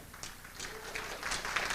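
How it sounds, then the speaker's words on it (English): An audience rises to its feet for Eustace Mullins, author of a book on the Federal Reserve, cheering and applauding in a steady, building wash of claps and shouts that grows louder over a couple of seconds. "Would you all please stand with me right now and cheer"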